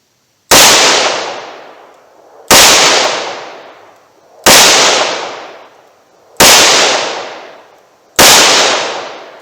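Five loud, sharp shots from a .38 Special revolver fired outdoors with a Remington HTP load, evenly spaced about two seconds apart, each cracking hard and then trailing off in a long rolling echo.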